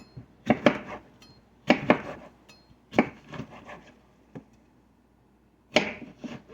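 Knife chopping through cucumbers on a cutting board in a home kitchen while preparing dill pickles, with a few separate clusters of quick crisp cuts and short pauses between them.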